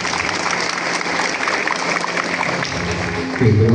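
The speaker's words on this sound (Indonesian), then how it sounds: "Tepuk tangannya mana dong?" A school audience at a gathering for parents of tenth-grade high school students applauds, a continuous patter of many clapping hands with a louder low thump near the end.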